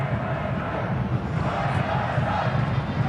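A large crowd of Buriram United fans keeps up a steady, dense roar of cheering at an AFC Champions League 2013 quarter-final football match, loud and continuous with no break.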